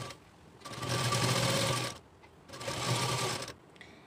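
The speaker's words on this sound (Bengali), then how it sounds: "এবার আমি আপনাদেরকে মেশিনে সেলাই করে দেখাবো" An electric sewing machine stitches a cloth bolster pillow cover in two steady whirring bursts, each lasting over a second, with a short pause between and no talking.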